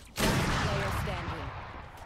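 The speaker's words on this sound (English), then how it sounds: "Flashbang." A flashbang grenade bursts in a shooter video game, a sudden loud blast that rings out and decays slowly over the remaining second or two.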